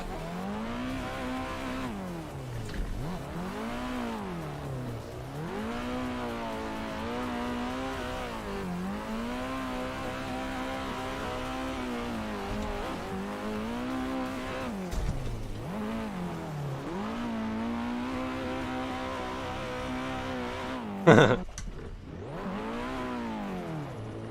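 Several cars drifting on a track in a drift racing video game, engines revving up and down in sweeping cycles throughout, with a sharp burst of tire noise near the end.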